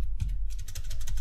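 Rapid, light keystrokes on a computer keyboard, close and clear, tapping in a quick uneven rhythm with no voices.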